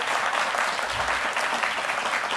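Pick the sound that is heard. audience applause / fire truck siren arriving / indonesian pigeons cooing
audience applause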